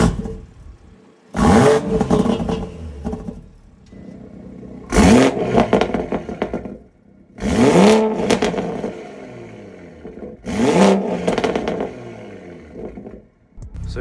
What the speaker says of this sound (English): I'll do a couple light revs so you guys can kind of hear how it sounds